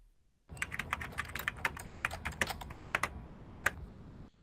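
Someone types an employee ID number on a computer keyboard, a close run of crisp, irregular key clicks lasting a few seconds with no talk.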